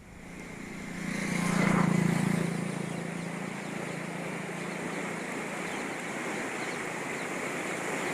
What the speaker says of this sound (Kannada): ಡ್ಯಾಮ್ನಿಂದ ಒಂದು ಪಾಯಿಂಟ್ ಮೂರು ಸೊನ್ನೆ ಲಕ್ಷ ಕ್ಯೂಸೆಕ್ ನೀರು ಹೊರಬಿಡಲಾಗ್ತಾ ಇದೆ